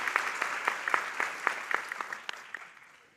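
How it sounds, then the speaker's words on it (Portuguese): Applause from an audience at the opening of an international seminar, a room of hands clapping in a brisk rhythmic pattern with crisp distinct claps that gradually fade out. "Eu queria pedir a vocês uma salva de palmas para os conselheiros e conselheiras do Confoco, que foram fundamentais nesse trabalho."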